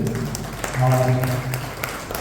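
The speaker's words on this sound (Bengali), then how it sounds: "সকলের তরফ থেকে আরেকটা বড় করে হাততালি" A crowd claps after a Tagore-based Pujarini dance performance, a short burst of applause under the host's voice.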